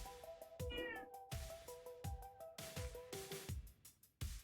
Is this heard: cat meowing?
yes